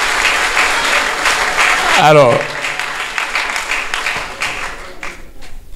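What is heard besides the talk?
audience applause at a university conference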